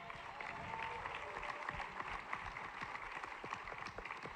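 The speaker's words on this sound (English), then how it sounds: "So give yourselves a round of applause" A rally crowd in Des Moines claps and cheers continuously, individual hand claps audible within the sustained, moderately distant applause.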